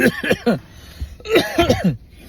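A person coughs a few times in quick, harsh bursts, pauses, then coughs again in another rough cluster.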